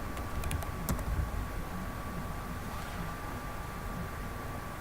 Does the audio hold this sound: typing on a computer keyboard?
yes